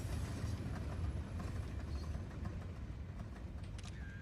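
Steady low rumble and rolling clatter of a train passing in the Euro Truck Simulator 2 driving game, constant and fairly close, with a brief high squeal near the end and no talk.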